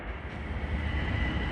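A Metro-North train on the Harlem Line, a Danbury through train, rumbles past in a steady, continuous roar at moderate distance, with no voices.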